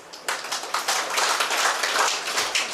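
A group claps hands in unison during a spiritual drill, a dense run of close, fairly loud claps lasting a few seconds with no talk over it.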